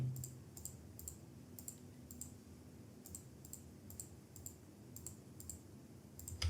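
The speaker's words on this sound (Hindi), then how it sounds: "कंट्रोल को हम लोग दबाए रखेंगे और जहां पर क्लिक करते जाएंगे वो सारी सेल सिलेक्ट हो जाएंगी" Computer mouse clicks come while cells are picked one by one in an Excel spreadsheet: sharp, light clicks spaced irregularly, often in quick pairs, close and fairly quiet over a soft background hum.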